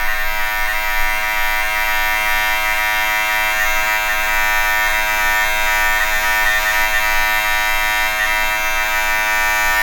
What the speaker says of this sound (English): I'm going to start off with the Rambo Clipper